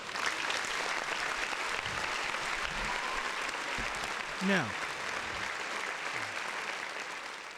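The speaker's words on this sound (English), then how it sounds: "round of applause to the audience member." An audience claps steadily throughout, with a brief voice speaking near the end.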